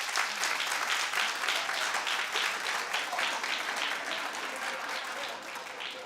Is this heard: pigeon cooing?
no